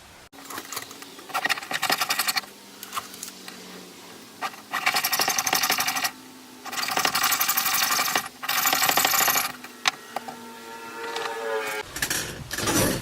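A tool cuts around a silver earring piece on a metal plate, giving several loud bursts of rapid buzzing and rasping with quieter pauses between passes.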